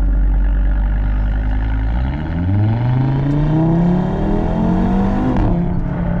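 A 2015 Audi RS3 with the 2.5 TFSI five-cylinder engine accelerates close up, its exhaust rising through the gears with a rasping, climbing note, then easing off into crackling pops and bangs near the end.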